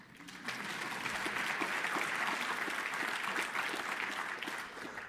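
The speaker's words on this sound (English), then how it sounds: "yes, you can applaud if you'd like" Audience applause at an awards ceremony for the World Tourism Awards, a dense, steady roar of many hands clapping together that swells in and holds at an even level throughout.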